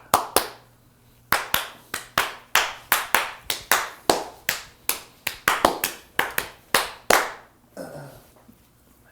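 A small group claps for Jacob during a live build stream, a run of about twenty sharp, distinct claps in an uneven rhythm, loud and close, ending in a brief pause with a faint voice at the very end.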